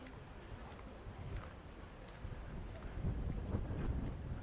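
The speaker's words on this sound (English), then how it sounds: "So you can sort of gauge how windy it is" Seaside wind in Lanzarote buffets the microphone in low, rumbling gusts that swell and build toward the end, with no talking.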